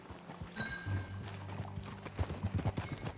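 Rhythmic clip-clop of horse hooves at a steady trot in the video game Red Dead Redemption 2, fairly close, with a low rumbling backdrop and a faint high tone early on.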